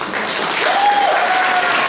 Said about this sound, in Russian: Друзья, вы совершенно зря хлопаете